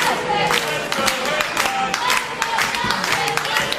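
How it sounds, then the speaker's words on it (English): A wrestling crowd at a Matt Justice vs. Super Hentai match keeps up a steady roar of voices, rhythmic shouting and scattered clapping, with bursts of cheering rising and falling over the whole stretch. "You hear a little bit of dueling chants here from this crowd."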